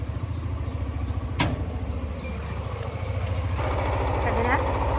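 A motorcycle engine idles close by with a low, even, rapid chugging pulse, steady and fairly quiet, with a brief sharp knock partway through and no talk.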